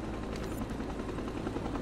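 Helicopter in the Resident Evil 4 video game, its rotor producing a faint, continuous low thrumming with a rhythmic pulse, brief and steady with no speech over it.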